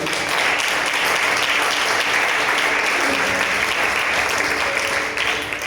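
A church congregation applauds loudly and continuously, a thick wash of clapping sustained evenly for nearly six seconds without any speech.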